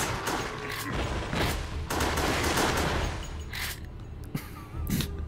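Repeated gunshots in Resident Evil: The Darkside Chronicles on the Wii, a run of loud, close bangs in uneven clusters with short gaps, over game background noise.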